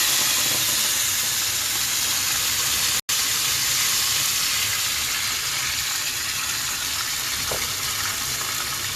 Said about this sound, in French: vous allez chauffer votre graisse et quand vous voyez que ça chauffe, vous allez déglacer au vin blanc